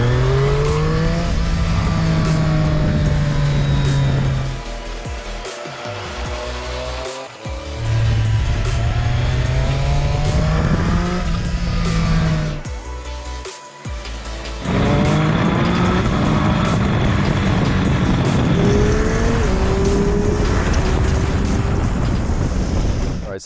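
A Triumph Street Triple RS motorcycle is ridden on the road. Its engine rises loudly and close through repeated gear pulls, with brief dips at the shifts and a couple of short pauses.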